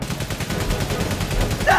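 Rapid machine gun fire in the World War I video game 11-11 Memories Retold, a dense, continuous burst of shots close by that runs the whole moment under a busy battle mix.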